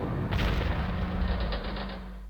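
An anti-infantry tank in Panzer Corps opens fire with a short rattling volley of rapid shots and a booming report, loud and close, then trailing off over about two seconds with no talk.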